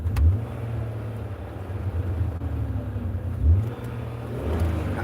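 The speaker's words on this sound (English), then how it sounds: "I like older cars because of their engine." An older car's engine drones steadily while driving, a low continuous hum with two brief swells in revs, close and moderately loud, with no speech over it.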